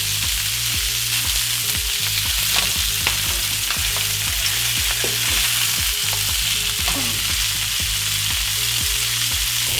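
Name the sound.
meat browning in a hot pan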